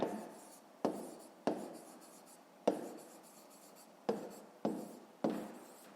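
Pen strokes writing out a fifth-grade math exercise solution on paper, six or seven distinct scratchy bursts, each beginning sharply and trailing off, close and fairly quiet with no talking.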